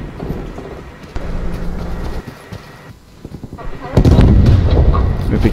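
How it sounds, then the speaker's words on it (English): A grenade explodes in Call of Duty: Black Ops Cold War, a sudden heavy booming blast with a low rumble that follows brief gunfire and other game noise. "Oh, grenade."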